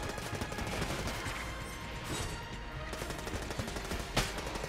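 Gunfire in the video game Enter the Gungeon comes as a dense, continuous stream of rapid shots mixed with game effects, with one sharper burst toward the end.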